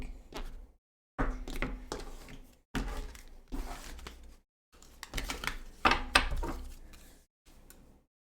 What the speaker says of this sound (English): Oh, I gotta cut the deck.